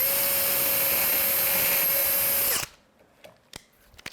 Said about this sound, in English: Line it up and drill through both.